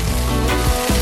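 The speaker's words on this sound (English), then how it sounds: "So right here, I'm just flipping my shrimp." Jerk shrimp sizzle steadily in a hot frying pan, a loud, continuous crackle with a brief shift as they are moved, no voices.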